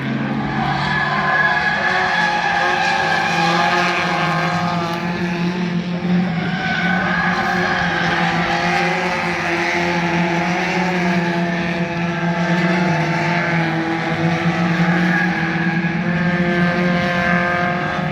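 Race cars at the Nogaro circuit during a French circuit cup meeting, a steady droning engine roar with sustained harmonic whine that swells slightly as cars pass, loud and continuous throughout with no talk.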